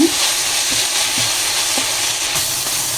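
Cauliflower frying in oil gives a loud, steady sizzle and crackle close by, with occasional soft stirring taps and no speech.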